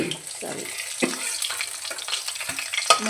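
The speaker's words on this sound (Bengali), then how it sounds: "আমি কড়াইতে তেল দিয়ে ভেজে নেব" Fish pieces fry in oil in a wok, giving an uneven crackling sizzle with short spattering bursts heard up close.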